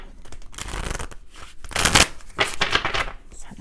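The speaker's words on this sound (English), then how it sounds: "Just had to shuffle it a couple more times." Tarot cards are shuffled by hand in a quick, continuous run of papery riffles and soft slaps, close and fairly loud, with a couple of brighter bursts in the middle and no talking.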